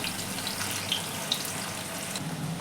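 Bitter gourds fry in oil in a wok, giving a soft, continuous sizzle at low volume with a couple of tiny pops and no talking.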